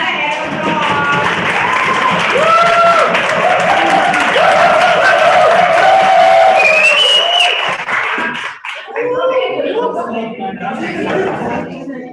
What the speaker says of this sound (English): let's give Robin another hand of applause.